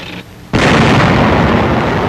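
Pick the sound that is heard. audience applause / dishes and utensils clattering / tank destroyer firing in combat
tank destroyer firing in combat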